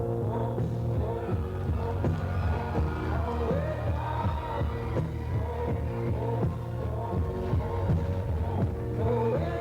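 A boxing crowd roars for Joe Hagan at a fight night with a sustained, dense wash of cheering, shouting and whoops, loud and continuous, with no clear speech on top.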